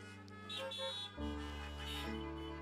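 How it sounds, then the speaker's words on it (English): Car horns honk in a church parking lot, several overlapping sustained tones at varying pitches, layered and moderately distant, shifting as new horns join, with no talk. "You've been honking, amen."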